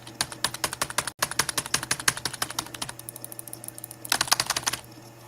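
Rapid keyboard typing clatters in quick, uneven bursts of close, sharp key clicks, pausing briefly and resuming in a denser flurry before trailing off, with no talking.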